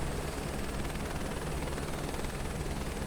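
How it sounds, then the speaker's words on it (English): A helicopter in Microsoft Flight Simulator 2024 flies at very high altitude on Mount Everest, giving a steady, dense rotor and engine roar that holds constant and loud throughout with no pauses. "Even for this helicopter, it's a challenge"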